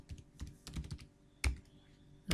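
Keys clatter on a computer keyboard while code is being written, several quick bursts of typing followed by a couple of louder, sharper keystrokes, close up and with no voices.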